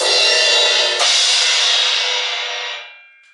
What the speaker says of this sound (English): The 2 crash cymbals make different sounds.